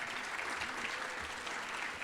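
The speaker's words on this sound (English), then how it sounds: "Let's give him a round of applause." An audience at a talk by Eagles author Ray Didinger breaks into steady applause, a soft, even wash of clapping heard from a distance with no speech over it.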